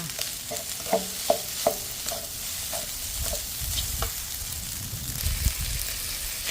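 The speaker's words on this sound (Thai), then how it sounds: "ข้าวเย็น เรามาอุ่นอีกรอบหนึ่งให้ร้อนแล้วเราก็ผัด ข้าวก็จะไม่แฉกจ้า" Reheated cold rice is stir-fried in a hot pan for tuna fried rice. A steady sizzle runs under scraping stirs and light clinks of a utensil against the pan, close by.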